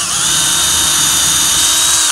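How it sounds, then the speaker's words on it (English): A power drill fitted with a stop collar bores into a wooden drawer box, giving a loud, steady high-pitched whine that runs alone for about two seconds before cutting off. "I'm going to use this drill with the stop collar on it."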